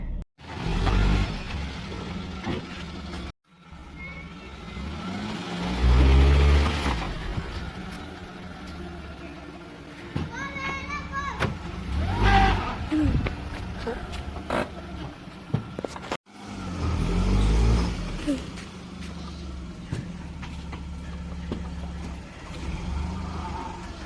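A car spinning its wheels in first gear using handbrake, clutch and accelerator: a loud engine rumble rising and falling, with scraping, squealing tyre noise over it and abrupt cuts.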